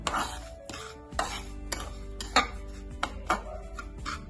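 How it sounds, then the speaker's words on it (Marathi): Semolina dry-roasting in a pan for modak filling, with a spoon clinking and scraping against the metal in irregular strokes, close and moderately loud, no talk. "अशा पद्धतीने छान 7 ते 8 मिनिट आपण रवा छान भाजून घेणार आहोत।"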